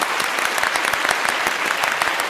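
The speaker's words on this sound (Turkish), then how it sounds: "Hadi alkışlayalım." Studio audience on a Turkish game show breaks into brisk applause, a dense, even clatter of many hands sustained throughout the short stretch.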